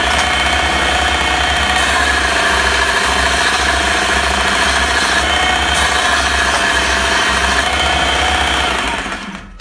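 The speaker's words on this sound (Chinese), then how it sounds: "这是主电机，正反转，无极跳速" Main motor of a homemade DIY mini machine with forward and reverse rotation and stepless speed control, running loud and steady with a dense whirring drone and low rhythmic pulsing, then stopping abruptly at the end.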